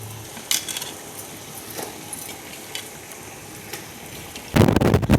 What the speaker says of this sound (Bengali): এবার কষানো মশলার মধ্যে মাংসটা ঢেলে দিব।